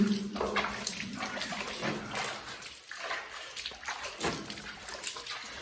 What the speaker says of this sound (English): I'm actually pouring water.